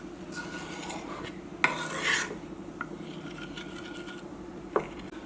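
A spoon scrapes and stirs peanut mochi batter in a bowl, soft steady rasping with a couple of sharp clinks against the bowl, quiet and close over a faint hum.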